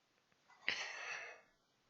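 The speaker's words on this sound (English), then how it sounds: "Apologies for the coughs" A single quiet cough or sneeze-like burst from a person, a sharp breathy onset followed by about a second of airy exhalation, alone against near silence.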